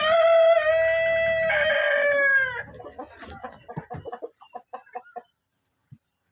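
A Bahama rooster crows loudly and close up, a long drawn-out call, followed by a series of short clucks that gradually thin out into silence.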